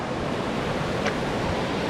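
A flowing river in Aurland heard as a steady, dense rushing wash of water, loud and even throughout the short clip with no voices.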